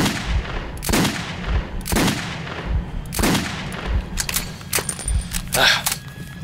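Gunfire in the Metro 2033 video game: several sharp, loud shots spaced about a second apart, followed by quicker clattering bursts, with talk in between.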